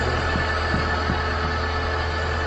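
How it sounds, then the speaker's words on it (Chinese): A used Haval H5, which shows an odd noise when the accelerator is pressed, idles with its engine running as a steady, even hum and drone close by, with a few soft ticks and no talking. "这会儿我们听一下发动机"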